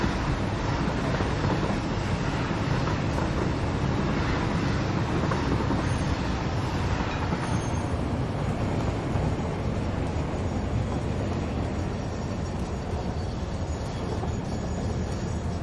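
A train rolls along the tracks in the video game Satisfactory, a steady, loud broadband rumble that holds throughout with no talking.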